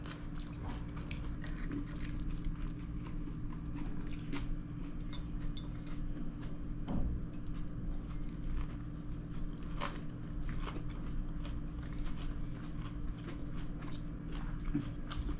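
Someone bites and chews kimchi pancake (kimchijeon), giving soft, close, irregular crunches and mouth sounds over a steady low indoor hum, with no talking.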